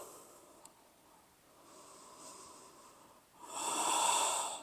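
A deep yoga breath in downward facing dog, faint breathing at first, then a louder, close, airy exhale near the end.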